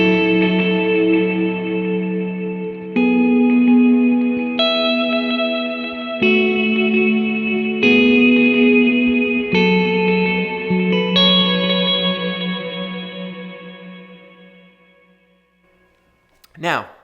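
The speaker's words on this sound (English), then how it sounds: "I've got my 2 delays, my long stuff. Everything's feeding into a big reverb now." Ambient electric guitar through a Kemper Profiler, with two long delays feeding a big reverb: sustained chords swell in repeated waves, layering into a wide shimmering wash that slowly fades out, with no talking.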